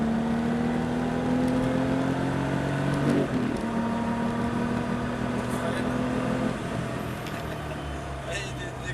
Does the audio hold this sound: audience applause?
no